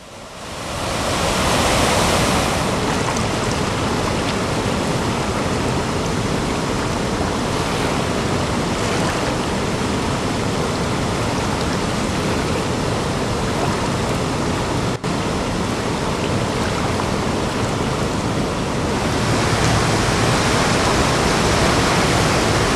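A roaring waterfall in Tamenglong gives a loud, dense, unbroken rush of falling water, steady and close, with no voices.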